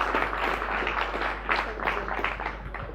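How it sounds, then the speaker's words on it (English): Audience applause at a plenary session, a steady wash of many hands clapping for the full stretch at moderate volume, with a low constant hum underneath. "Round of applause."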